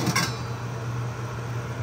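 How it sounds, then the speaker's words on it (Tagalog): Shrimp and asparagus sauté in a pan with a steady, close hiss of frying, opened by a brief metallic clink of utensil against pan. "Gisa lang po natin."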